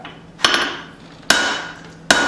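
Three sharp, ringing hammer blows land on hot steel at the near side of an anvil while a small claw hammer is forged, spaced under a second apart with short decaying rings between strikes.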